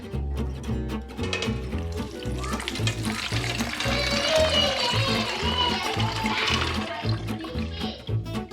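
Water runs steadily from a kitchen tap into a container for homemade lemonade, a loud continuous gush with a rhythmic bubbling pulse beneath it.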